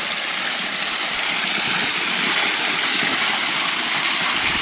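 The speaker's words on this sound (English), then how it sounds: "there's also a nice little waterfall" Small waterfall spilling down a big hilly gully in the Victorian bush, a steady broadband rush of falling water, close and continuous, with no voices.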